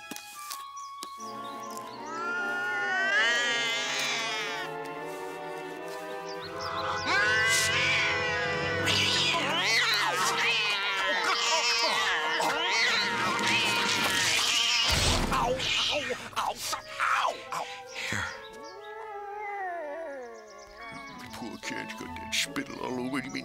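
An animated cartoon cat meows and caterwauls in long, wavering, drawn-out yowls that rise and fall in pitch, loud and close, mixed with other shrill noises and scattered voices.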